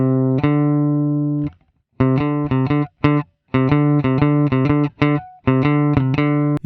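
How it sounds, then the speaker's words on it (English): A bright synthesized tone steps up and down by a major second in short, clipped notes with gaps between phrases, loud and alone. "How about the major second? I think of this as sounding bluesy."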